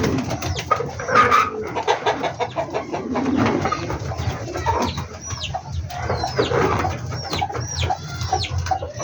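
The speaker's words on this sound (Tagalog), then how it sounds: "kita niyo yung mga ibon natin. Matuwan-tuwa." Pet birds cooing and calling in a shared enclosure, with repeated soft coos and brief chirps layered over steady background noise, fairly close and continuous throughout.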